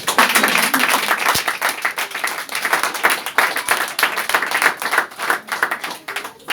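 A church congregation claps and cheers in praise, loud, sustained applause rippling through the room for the whole stretch.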